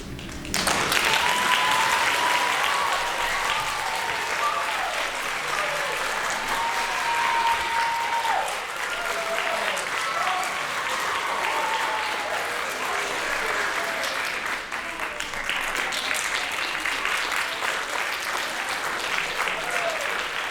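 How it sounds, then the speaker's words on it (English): Sustained audience applause fills a high school auditorium after a drama performance of a modern Christmas Carol, steady and loud throughout with faint cheering and voices mixed in. "Give them all one more round of applause, folks."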